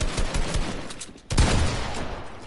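Loud, dense gunfire from a competitive shooter video game, including shotgun blasts, rattles in rapid overlapping bursts. It pauses for a moment, then comes back just as heavy.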